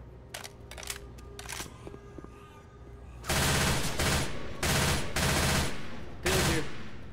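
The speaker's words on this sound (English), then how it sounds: "Reloading." Left 4 Dead 2 weapon handling at a carnival fairground: a few sharp mechanical clicks and clacks come first, then loud bursts of gunfire follow in quick clusters.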